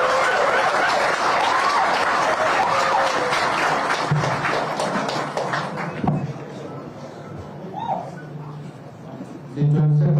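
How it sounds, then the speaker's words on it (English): Applause from the audience at a Nigerian police handover ceremony, as the acting Inspector General of Police is introduced; dense clapping through the first few seconds, thinning out, with scattered sounds and a low hum toward the end. "A round of applause for him."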